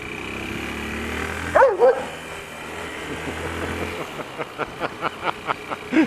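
A black dog barks aggressively in quick, rhythmic bursts on an Istanbul street, growing more insistent, over steady street noise and traffic rumble.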